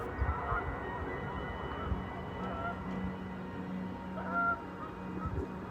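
Geese honk off in the distance on a snowy outdoor hike, their scattered calls rising faintly over a steady background murmur.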